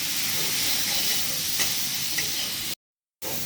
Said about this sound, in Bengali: এবার ভালোভাবে নাড়িয়ে চাড়িয়ে নেব।